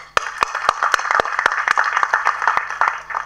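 A crowd claps at a movie audio release event, loud sharp individual claps in an irregular rhythm rising over a dense bed of applause in a large hall.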